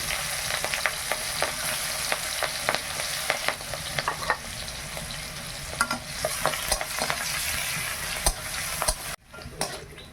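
Black cumin seeds, slit green chillies and onion sizzling steadily in hot oil in a pan, with frequent scraping stirs of a spatula over a continuous crackling hiss; no talking, and the sound cuts off near the end.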